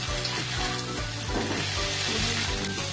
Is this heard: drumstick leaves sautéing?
yes